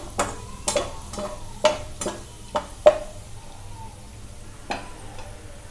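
Cumin seeds sizzle in hot oil on a medium flame while being stirred, with a soft frying hiss beneath a series of sharp spoon scrapes and taps against the pan, roughly eight irregular strikes, close and clear with no talking.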